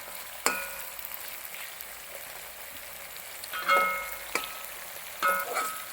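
Garlic and ginger fry in a pan for a Kerala-style fish pickle. A steady, soft sizzle is stirred now and then, giving a few sharper scraping swells, with no talk.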